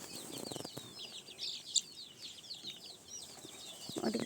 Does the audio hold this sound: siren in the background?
no